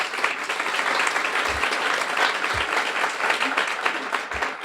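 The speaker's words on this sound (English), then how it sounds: "please stand up for a warm round of applause" Audience applause for a sponsor standing at a guide dog graduation ceremony, a steady dense wash of many hands clapping throughout, with a few low thumps underneath.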